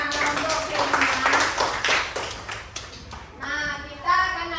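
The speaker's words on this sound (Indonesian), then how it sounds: "Tepuk tangan dong anak-anak untuk Krisna" Schoolchildren in a classroom give a short round of clapping for a classmate, scattered hand claps mixed with children's voices and chatter, an adult voice speaking over them at the end.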